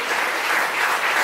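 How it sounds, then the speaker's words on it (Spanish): Dense crowd applause at a church service, a steady wash of clapping throughout the short moment. "Un aplauso para el Señor Jesucristo."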